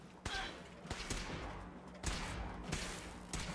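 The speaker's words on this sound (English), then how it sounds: "somebody's shooting at me" Scattered gunshots ring out in Fallout 4, several sharp cracks spaced irregularly over a rough ambient background, moderately loud and without speech.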